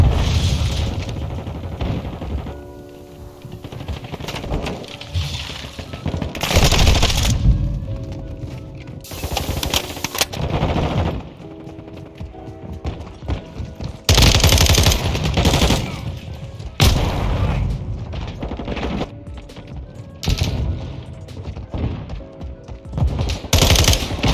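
Gunfire in Call of Duty: Modern Warfare 2 multiplayer, with dense bursts of automatic rifle fire, single shots and booming impacts recurring in waves at close range, layered over a constant busy game soundscape.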